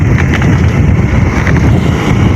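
Strong wind buffets the microphone outdoors on a farm, a steady loud rumbling roar with gusty low-end thumps running throughout.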